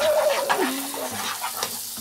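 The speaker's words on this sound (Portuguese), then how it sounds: "Vou dar uma refogada aqui na minha cebola." Onion sautéing in a pan for chicken meatballs in sauce: a continuous soft sizzle with light stirring scrapes, moderately close, with a faint squeaky tone early on.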